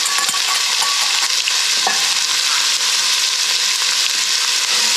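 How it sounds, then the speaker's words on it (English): Onions sizzle and fry loudly in a hot pan, with steady crackling hiss and occasional scraping taps as they are stirred, close and continuous without any talk. "Let's stir them down. All right. Throw in our onions."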